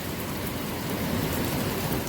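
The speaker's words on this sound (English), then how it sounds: "It's raining really hard." Heavy rain pours down outside a workshop, a dense, continuous hiss and rush of water that holds a steady, fairly loud level from start to finish with no one speaking.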